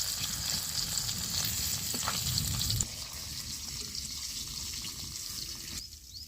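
Hilsa fish tail frying in oil in a kitchen pan, a loud continuous sizzle that drops to a quieter crackle partway through, with faint stirring or water sounds.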